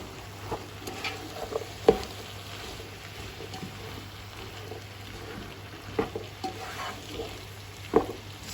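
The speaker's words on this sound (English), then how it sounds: "So I'm going to give it a good mix." Spiced chicken spring roll filling with turmeric and cumin sizzles softly in a frying pan under steady stirring, with scattered light scrapes and taps from the utensil.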